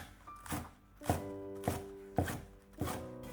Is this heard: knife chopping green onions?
yes